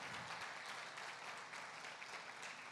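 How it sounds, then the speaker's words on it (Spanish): A church congregation claps during a family worship service, a steady even wash of applause filling the room, fairly faint and distant with no voices standing out. "Denle un fuerte aplauso al Señor."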